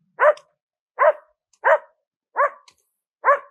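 A dog near a tunnel barks five times in a steady rhythm, each bark short, sharp and fairly close, with quiet gaps between and no talking.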